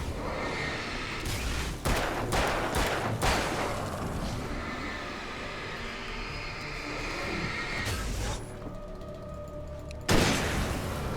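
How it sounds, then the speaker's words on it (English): Hunting rifle shots in the Alan Wake video game: several sharp, loud reports in a quick cluster early on and another couple later, set over a rumbling ambient game background. "That's the hunting rifle."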